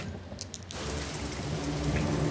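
Heavy rain suddenly intensifies into a dense, steady hiss of falling drops after a brief quieter start with a few drips, close and continuous with no voices.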